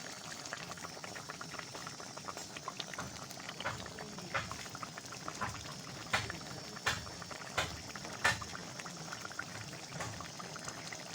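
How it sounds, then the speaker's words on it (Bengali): Fish curry gravy with pabda fish bubbling hard at a rolling boil in a pan, a steady close burble with a few louder pops and blips, fairly quiet overall. "দেখো ঝোলটা ফুটে গেছে টকবক করে"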